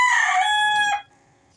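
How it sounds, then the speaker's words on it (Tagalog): A rooster crows loudly and close in a small backyard, one long harmonic call lasting about a second before cutting off to quiet, with faint clucking after. "Ibutan naton mga manok."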